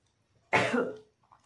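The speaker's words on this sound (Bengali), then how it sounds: "কাশি হচ্ছে ভীষণ লাগছে" A single harsh cough from burnt dried chilli fumes, close and loud, lasting about half a second, with near silence around it.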